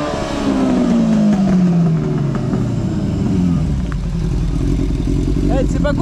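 A cheap café racer motorcycle's engine is held at high revs during a burnout, a loud close roar with a falling tone and some clatter, while a person talks over it.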